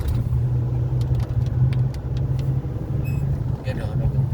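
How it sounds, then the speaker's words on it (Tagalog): A car engine labors in a low, steady drone as the vehicle crawls slowly uphill on a mountain road at Tanay, Rizal, with people talking over it. "Gapang na yung sasakyan."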